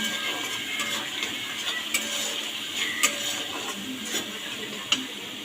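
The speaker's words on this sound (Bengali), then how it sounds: "একটু নাড়াচাড়া করবো।" Spice masala for tahari being stirred in a cooking pot, with soft scraping and light clinks of a utensil against the metal, small ticking taps scattered over a steady sizzling hiss, fairly close.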